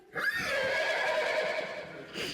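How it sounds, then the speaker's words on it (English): A horse neighs in a stage play, one long clear whinny heard close and alone, falling slightly in pitch before a short breathy snort at the end. "it's got his horse worried anyway"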